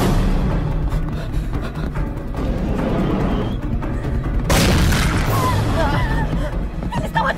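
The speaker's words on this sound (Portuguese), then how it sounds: "Eles estão atirando!" Loud bursts of gunfire in a dubbed horror film, a heavy crash and booming shots layered with shouting voices and dense action noise throughout.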